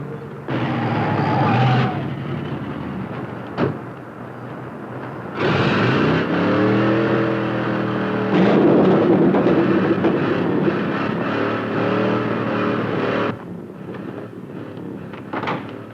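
1950s hot rod engine roaring past in loud bursts, each run surging and fading, separated by brief gaps.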